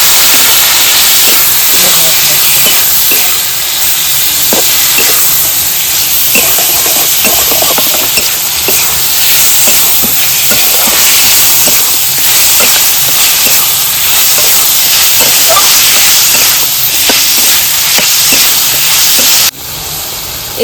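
Water poured over hot spiced chicken in a pan sets off a loud, continuous steamy hiss and sizzle, heard close up, with faint stirring clatter underneath, before it drops away abruptly near the end.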